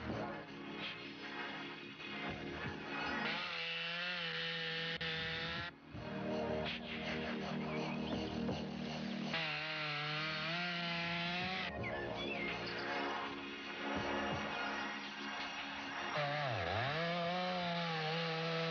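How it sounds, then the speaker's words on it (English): A chainsaw roars steadily nearby, cutting into an old gum tree in Tasmania's Huon Valley forest, its engine pitch rising and dipping as it bites into wood, with brief surges and one short drop mid-cut. "The teeth of the chainsaw are about to sever life in another ancient gum."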